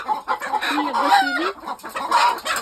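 Broody hens set on eggs in a tub and cluck close by, giving several short, warbling clucks and calls that overlap in quick succession.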